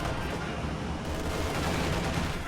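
Anti-tank gun firing at an IS-2 tank in a World War II strategy game battle, amid a dense, loud rumble of continuous gunfire and explosions with no clearly separated single shot.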